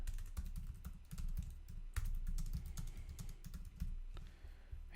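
Steady rapid typing on a computer keyboard, dense clicking keystrokes close by with small pauses, alone without talk.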